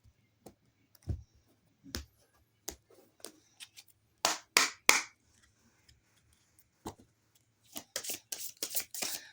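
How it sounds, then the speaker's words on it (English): Tarot cards are shuffled by hand in short bursts of crisp riffling and snapping card noises, with scattered single clicks and taps between quiet gaps, close and fairly faint. "let's get one more good shuffle and we will begin."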